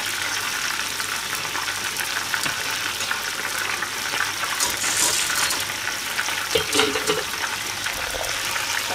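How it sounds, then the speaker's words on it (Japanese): Cabbage kakiage deep-frying in hot oil as moisture escapes from inside, giving a steady, loud, dense crackling sizzle with bubbling throughout and a few louder pops, with no talk. "今、音が変わったでしょ。中の水が出始めてますね。"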